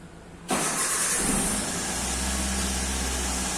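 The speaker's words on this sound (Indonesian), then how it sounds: "Kemudian kita coba nyalakan mobil." A 2005 Toyota Avanza engine cranks and catches after a brief quiet moment, then settles into a loud, steady idle heard up close.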